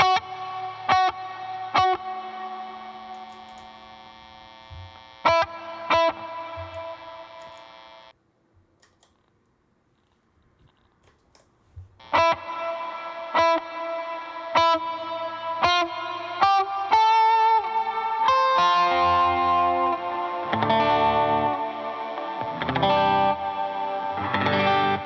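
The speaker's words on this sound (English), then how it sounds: "The long setting has a thicker reverb sound." Electric guitar run through a Strymon BlueSky reverb pedal on its long, thick setting: a few picked notes and chords ring out, a short silence, then denser strummed passages swell into a lush, sustained reverb wash, with no talking.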